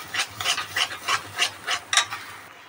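A spoon scrapes and stirs salted fried masoor lentils in a pan in a steady rhythm of about ten close rasping strokes, with no talk.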